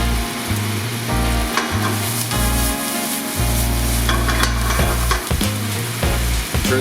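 Brussels sprouts sizzle steadily in a hot pan seasoned with salt, pepper and pepper flakes, a continuous loud frying hiss with occasional stirring scrapes and no voices.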